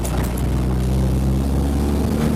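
A Nissan 240sx with a KA24DE engine drives along, giving a steady low engine drone with a hum of road noise, close and constant for a couple of seconds with no talk.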